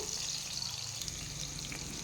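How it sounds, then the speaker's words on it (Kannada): Onions and green chillies sizzle steadily in hot oil, a soft, continuous crackle without any talking. "ಈರುಳ್ಳಿ ಜೊತೆಯಲ್ಲೇ ನಾನು ಇಲ್ಲಿ ಒಂದು ನಾಲ್ಕರಿಂದ ಐದು ಹಸಿಮೆಣ್ಸಿಕಾಯಿನ ಹಾಕ್ಕೊಳ್ತಾ ಇದ್ದೀನಿ"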